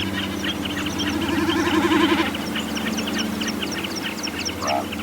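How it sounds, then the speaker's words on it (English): Snipes and other birds on the island of Grimsey, Iceland: a busy outdoor chorus of repeated chirps and calls at varying distances, with a warbling call rising briefly, over a low steady background hum. "I recorded these snipes and other birds on the island of Grimsey in Iceland."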